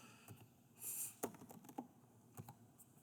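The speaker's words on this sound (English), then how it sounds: "I'm going to start typing." Close, quiet keyboard typing: irregular bursts of key clicks and taps over a faint background hum.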